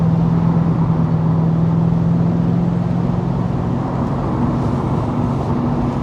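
A 525hp LS3 V8 swapped into a Mazda ND Miata cruises along, its engine giving a steady low droning hum with road and wind noise, constant and close throughout.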